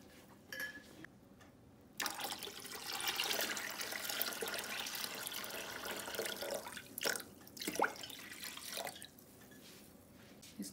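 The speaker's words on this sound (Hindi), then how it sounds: "अब हम इसमें पानी शामिल कर देंगे।" Water poured from a jug into a pot of chicken haleem mix, a broad steady splashing fill with brief dripping before and after, close and fairly loud with no talk.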